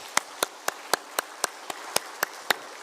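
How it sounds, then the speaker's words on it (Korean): A church congregation clapping together at an early-morning service: crisp, evenly timed claps in unison, about four per second, heard from a slight distance without any talking. "우리 뜨거운 박수로 감사하십시오"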